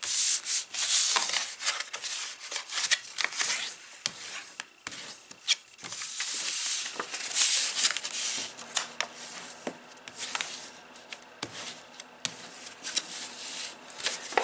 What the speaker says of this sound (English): I'm just going to fold and burnish my score lines.